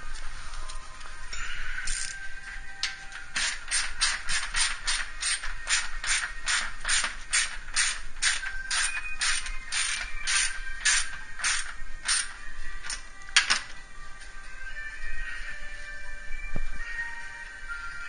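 A hand ratchet tightens a bolt during a radiator install, a fast run of sharp evenly spaced clicks lasting about eleven seconds, close and distinct against a quiet garage background.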